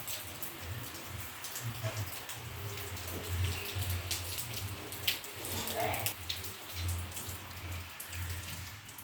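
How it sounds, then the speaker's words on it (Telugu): Heavy monsoon rain falls outside a house, a dense steady patter with droplets striking surfaces, continuous and moderately loud, with faint low voices murmuring underneath. "ఇంకా బయట మొత్తం ఫుల్ వర్షం"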